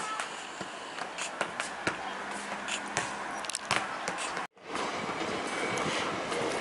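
A train rumbles steadily past with a dense clattering wash of rail noise, loud and continuous, briefly cut to silence midway before resuming.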